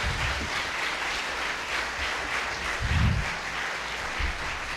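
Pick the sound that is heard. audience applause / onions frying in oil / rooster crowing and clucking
audience applause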